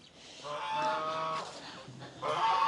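Farm geese kept in a pen with chickens honk close by in a few loud, drawn-out nasal calls, with a brief lull before another burst, no talking over them.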